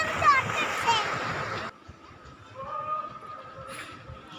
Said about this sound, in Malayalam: കടലിൻ്റെ സൗണ്ടൊക്കെ നല്ല രസമല്ലേ